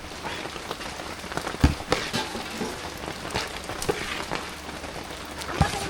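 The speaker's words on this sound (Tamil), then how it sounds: "மழை சவுண்ட் எப்படி இருக்கு" Heavy rain pours onto a tarpaulin shelter during outdoor cooking, a dense continuous patter with occasional louder drips and knocks standing out, steady and moderately loud.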